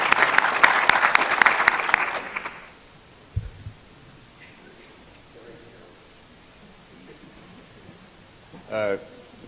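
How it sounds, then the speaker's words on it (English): A burst of audience applause after a panel discussion, dense clapping for a couple of seconds that quickly fades out, followed by quiet room tone and a brief noise later. "give our folks another round of applause"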